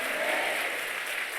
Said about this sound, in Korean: 성도님, 이때는 우리 하나님께 박수 쳐야 될 때 아니겠어요?